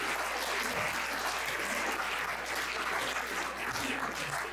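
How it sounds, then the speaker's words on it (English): Audience at a spiritual conference summit applauding, a dense continuous wash of clapping from a large crowd, sustained and even throughout. "Give a big round of applause to the Alliance."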